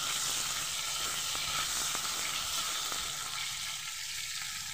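Potatoes fry in hot oil with a steady, close sizzling hiss that holds throughout and eases slightly toward the end.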